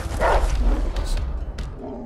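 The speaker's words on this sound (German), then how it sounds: "Oh, jetzt kommen die Hunde." Dogs barking in the video game A Way Out, a few quick yips and barks amid game noise while someone talks over them.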